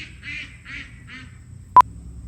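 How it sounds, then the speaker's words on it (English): A duck gives four raspy quacks in a steady series at moderate distance, followed by a short electronic beep. "sorry, that's a duck"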